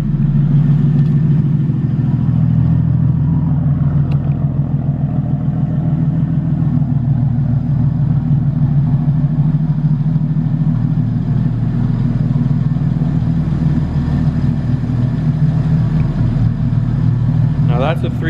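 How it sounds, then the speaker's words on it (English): Cold start of a car engine after three months of sitting, either a C63 AMG or an ST BMW 135i, a deep steady low idle rumble held loud and continuous throughout with slight fluctuations. "a 3-month-old cold start"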